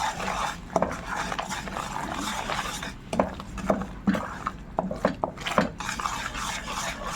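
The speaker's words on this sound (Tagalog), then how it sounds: "So try muna natin siyang ihalo. Halo muna natin siya." Muscovado sugar being stirred in a bowl or pot to dissolve it, producing a steady run of scraping, clinking stirs with sharper knocks against the container, close and moderately loud with no talking.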